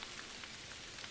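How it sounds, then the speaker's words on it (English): Steady rain falls outdoors at a hunting lodge, a soft, even patter without a break and no voices over it. "But it's raining."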